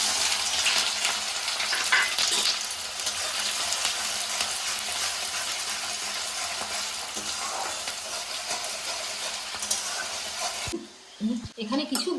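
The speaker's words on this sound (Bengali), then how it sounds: "দিয়ে দিচ্ছি তেজপাতা, দিয়ে দিচ্ছি পেঁয়াজ কুচি" Bay leaf and chopped onion hit hot oil for a jackfruit curry, giving a loud, dense, continuous sizzle that runs for about ten seconds before cutting off into a few clattering utensil knocks.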